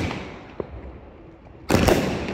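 A Diwali sky shot firecracker goes off, with a sharp pop early on and then a loud crackling burst that rustles on for nearly a second.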